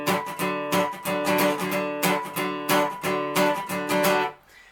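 Jazzy pomp-style guitar strumming in the manner of Shetland folk backing, with punchy rhythmic chord strokes in a bouncy, even pulse, heard up close and alone before fading out at the end.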